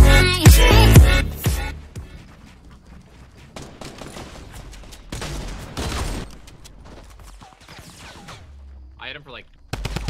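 Fortnite's new Tommy gun opens with a loud, fast burst of automatic fire, followed by scattered shots, booms and game effects, with a voice talking over part of it.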